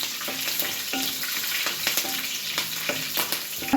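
Green chilies sizzle in hot oil for a tempering with mustard seeds and curry leaves, a dense close crackle with brief stirring scrapes and no voices.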